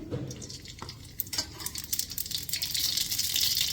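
Mustard seeds dropped into hot oil in a kadai start to sizzle, a fizzing, crackling hiss that builds steadily and grows louder toward the end, with a few clinks at the start and no talk.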